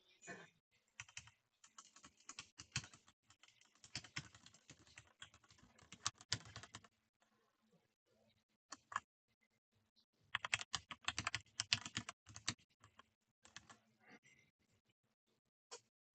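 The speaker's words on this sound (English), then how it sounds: "Keep talking so I can type" Clattering keystrokes on a computer keyboard in bursts of rapid typing separated by pauses, close and fairly quiet, with occasional faint talk in between.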